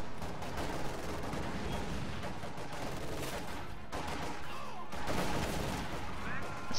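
Machine gun bursts and other gunfire from a World War II strategy video game, a dense continuous crackle of shots with explosions mixed in, loud and steady throughout.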